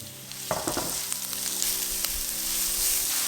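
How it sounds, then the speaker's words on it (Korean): Garlic and onion sizzle in avocado oil in a pan, a steady bright frying hiss throughout, with a few stirring clinks early on and no talking. "팬에 아보카도 오일을 두르고 마늘과 양파를 넣고 볶아주세요."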